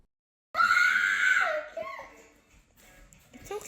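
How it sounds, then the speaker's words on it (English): A four-year-old girl lets out a loud, shrill, sustained scream up close that breaks into ragged, sobbing cries and fades before a brief final wail. "At 4 years old, this little girl screams for hours."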